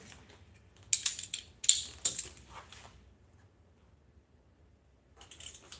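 Axle bolt being broken loose with a ratchet wrench: a few loud bursts of ratcheting clicks close up, then a quiet pause before a softer burst of clicking at the end.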